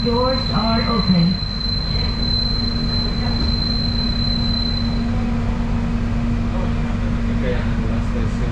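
An airport railway train runs at Manggarai station in Indonesia, a steady rumbling roll with a sustained tonal hum and faint squeal throughout, a public-address voice speaking briefly near the start.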